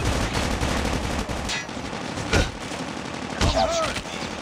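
Gunfire from a Call of Duty Mobile match, with bursts of automatic fire and scattered shots crackling in fast clusters and a couple of sharper bangs, set against game noise.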